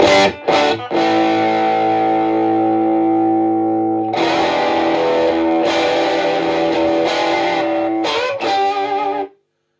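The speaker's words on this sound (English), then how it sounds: "I love the sound of the tube screamer with this" Electric guitar through a 1974 Fender Silverface Champ tube amp with a Tube Screamer overdrive pedal rings out in sustained distorted chords, then choppier strummed phrases, full and warm with no voices.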